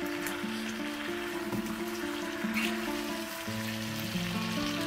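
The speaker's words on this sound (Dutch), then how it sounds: "Hij is lekker aan het bakken." Kwie kwie fish curry with masala sizzling and frying steadily in a pan, a continuous close crackle with faint stirring and no talk.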